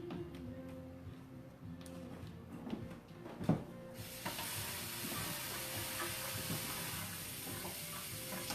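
Running water pours steadily over chopped leeks, a broad, close hiss that starts abruptly and continues without a break, preceded by a few soft kitchen knocks and handling sounds.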